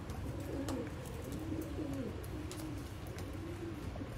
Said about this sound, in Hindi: सियालकोटी शेखां वाले कबूतर दोस्तों